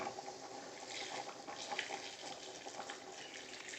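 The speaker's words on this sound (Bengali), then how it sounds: "এবার জল দেওয়ার হচ্ছে, দেখুন গরম জল তৈরি ছিল, সেই গরম জল দেওয়া হচ্ছে।" Hot water is poured into a cooking pot of country chicken, a faint, continuous splashing and trickling pour with no talk.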